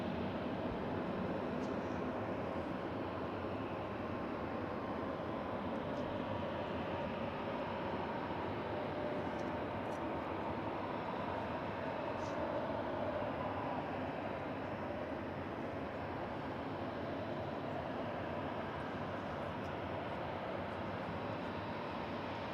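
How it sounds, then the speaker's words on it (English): A Ryanair Boeing 737-800 airliner bound for Malta passes, a steady broadband jet roar that holds level and continuous for over twenty seconds, distant and diffuse without any clear rise or fade, with no talking. "This Ryanair is going to Malta, Boeing 737-800, registration EIEME."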